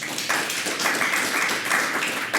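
Steady audience applause at a public talk, many hands clapping in a continuous dense patter that swells slightly in brief surges, with no voices standing out.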